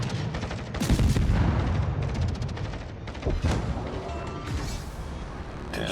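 Naval gunfire during a World of Warships battle: heavy booming salvos and dense crackling blasts, loud and nearly continuous, with deep rumbling impacts layered throughout.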